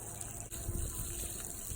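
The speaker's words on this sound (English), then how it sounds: "I was just asked to water. So I'm watering." Water pours steadily into potted plants, a soft continuous gush and trickle at close range, with a brief splashy change partway through and no talking.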